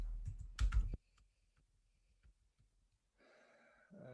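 A short burst of quick keyboard clicks, then faint scattered key taps in a quiet room.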